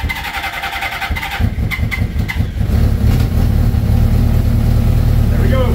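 A motorcycle engine with the choke on cranks and catches, then settles into a loud, steady low idle close by, with a voice speaking briefly at the start.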